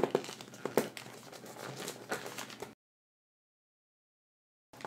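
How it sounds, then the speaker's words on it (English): A sheet of paper is creased and folded for an origami dragonfly, crinkling and rustling up close for a few seconds before going silent, then a brief rustle returns at the end. "And then fold this flap down."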